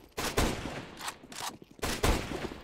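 Gunfire in the video game CS:GO: several sharp shots in quick bursts, some close together like a short volley, loud against a quiet background.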